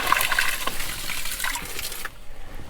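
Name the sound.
well water overflowing a bucket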